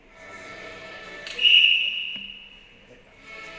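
A sharp referee whistle sounds once, short and shrill, at the start of a five-minute bout in a competition, over faint room noise and distant voices.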